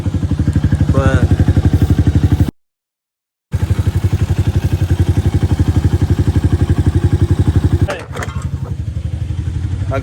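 A flood-damaged dirt bike engine runs and idles high, a loud, steady, rapid putter with a brief cut of silence and a dip in revs near the end, no talk over it.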